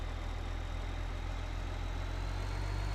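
A tractor engine idles in the Farming Simulator 2015 video game on Xbox One, a steady low droning rumble with a faint high whine, constant and unbroken with no voices.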